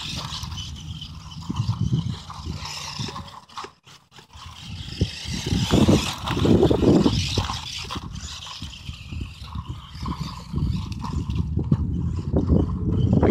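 A Traxxas Mini E-Revo VXL electric RC truck on a six-cell NiMH pack runs over rough ground at about quarter throttle, giving a continuous scraping, rattling clatter that briefly dips before picking up again.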